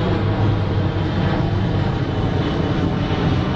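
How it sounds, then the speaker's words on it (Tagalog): An airplane flies overhead, a loud steady engine roar with a broad rumbling drone that holds constant for several seconds, with no voices over it. "Yun, may aeroplano pa oh. Yun, aeroplano."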